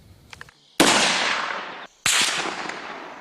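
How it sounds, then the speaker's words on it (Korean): Two sharp sniper rifle shots crack at night on a special forces training range, each a loud sudden blast followed by a long rolling echo that fades over about a second. "어둠을 뚫고 울려 퍼진 총성."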